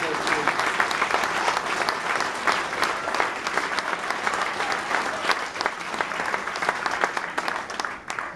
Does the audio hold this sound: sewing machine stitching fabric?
no